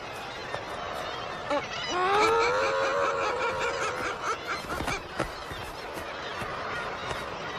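Guillemots calling in a dense Icelandic cliff colony, a raucous overlapping chorus of harsh, honking and chuckling calls with one loud nearby call rising clearly above the crowd.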